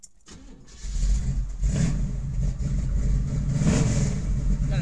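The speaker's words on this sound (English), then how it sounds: "Let me fire this one up for you." A 1973 Chevrolet Camaro RS with a V8 and lumpy cam cranks, catches and settles into a loud, close, rumbling idle with light revs throughout.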